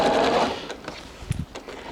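Sewing machine stitching a straight seam on a pleated fabric ring sling, a steady close whirring run that slows and stops after about half a second, followed by a few faint handling clicks and rustles.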